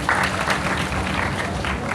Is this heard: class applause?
yes